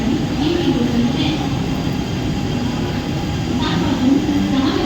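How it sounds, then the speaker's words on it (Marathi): A Mumbai Central line local train at Diva railway station platform at night gives a steady, dense rumble and rolling clatter nearby, with a faint announcement-like voice in the background. "प्लॅटफॉर्म क्रमांक 1 वर आलेली लोकल 7 वाजून 10 मिनिटांची डोंबिवलीला जाणारी मिनी लोकल"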